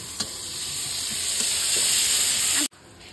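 Onions frying in a pan for fried rice, a loud close sizzling hiss with a few light stirring knocks, cut off abruptly near the end.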